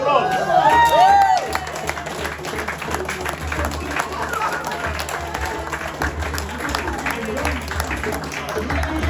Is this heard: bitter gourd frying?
no